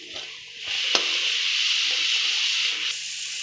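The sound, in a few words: gram flour pakoda frying in oil while being stirred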